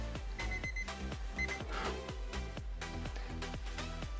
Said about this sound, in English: I hear the timer going off.